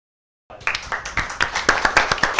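Studio audience at a Morehead State University quiz show breaks into applause after a brief silence, steady rhythmic clapping from a crowd, close and fairly loud.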